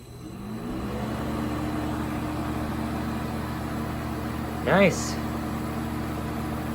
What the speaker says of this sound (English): So here it goes with the new motor, all wired up.